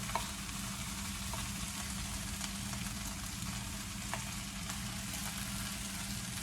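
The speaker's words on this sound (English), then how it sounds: "I'm going to cook that just a little bit, stir fry it just a taste" Freshly cut corn kernels stir-fry in a pan with a continuous, even sizzle close by and occasional faint clicks of stirring, with no talking.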